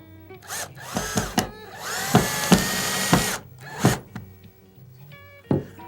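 A power drill drives a wood screw into wood with no pilot hole, whining in several short bursts that rise and fall, close by and fairly loud, with small creaks as the wood gives.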